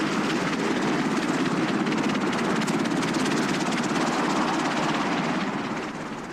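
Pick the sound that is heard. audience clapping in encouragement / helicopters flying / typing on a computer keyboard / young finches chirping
helicopters flying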